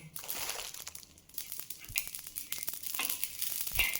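Dry carom seeds (ajwain) are stirred around a pan, making a scratchy, crinkling rustle with small clicks and scrapes that carries on steadily without talk.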